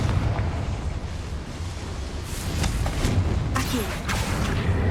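A Confringo blasting spell explodes in the video game Hogwarts Legacy, a loud rumbling blast with dense low-end roar and crackling bursts that keeps going throughout.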